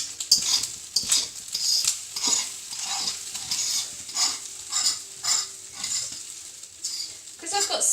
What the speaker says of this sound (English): I'm just going to bring in the rice into the egg.